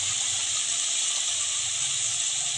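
Spice paste sizzling in a pan, a steady, loud, continuous hiss with no break, close up and with no voices.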